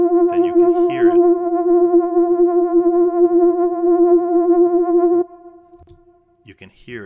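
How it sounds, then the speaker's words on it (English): A sustained synth lead tone holds steady with its reverb tail pumping and squeezed down, then cuts off as a person starts talking. "You can hear it affecting or compressing the trail of the reverb"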